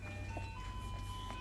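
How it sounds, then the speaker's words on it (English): Faint ice cream truck chime from a van passing close behind, thin sustained melodic tones drifting over steady background noise, no talking. "There's the ice cream truck right behind us"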